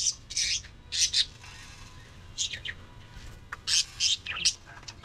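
Repeated bright, high-pitched pigeon calls in short bursts, several clusters of chirps and squawks close by in a loft at feeding time, with a low steady background hum.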